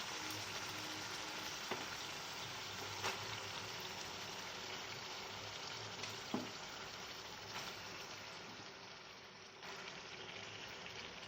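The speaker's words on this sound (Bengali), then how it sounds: "এবার যে মাংসটা আমি সর্ষের তেল দিয়ে মেখে রেখেছিলাম সেগুলো দিয়ে দেবো।" Meat coated in mustard oil sizzles after it is added to spices frying in a pan: a soft, even hiss continues throughout, with a few faint clicks and pops.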